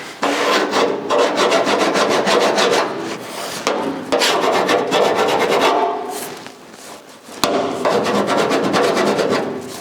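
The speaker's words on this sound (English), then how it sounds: "Not filing through the hem, just adjusting my weld there." Metal file rasping back and forth over a weld on a 1956 Chrysler 300 trunk lid, near and loud, in steady rhythmic strokes with two short pauses and a sharp tap near the end.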